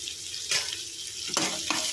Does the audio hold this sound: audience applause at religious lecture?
no